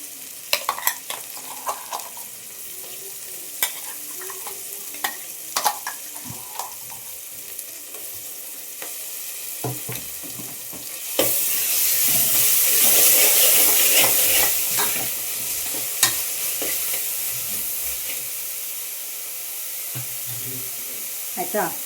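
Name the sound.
ground masala frying and being stirred in pan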